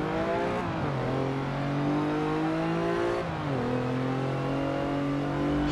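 A Chevy Colorado pickup's 3.6 liter V6 LFX engine revs hard in Forza Motorsport 7, a steady loud drone climbing in pitch with two gear-shift dips, close and continuous with no voices.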